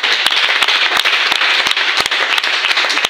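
Dense crowd applause acclaiming the Lord at a French-speaking church gathering, a steady roar of many hands with sharp individual claps popping through, loud and close, continuous for a few seconds without talk.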